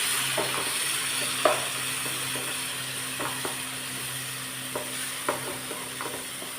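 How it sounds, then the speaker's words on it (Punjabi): Whole spices roasting in a pan for a broccoli sabzi, with a soft steady sizzle and scattered scraping clicks from a spoon stirring them, close and without talk. "ਸਾਰੇ ਮਸਾਲੇ ਮਸਾਲਿਆਂ ਨੂੰ ਨਾਲ ਹੀ ਭੁੰਨ ਲਵਾਂਗੇ"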